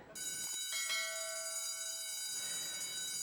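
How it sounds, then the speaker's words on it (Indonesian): An electric school bell rings loudly and steadily with a bright, sustained metallic tone, running unbroken for about three seconds. "Bel udah bunyi Pak."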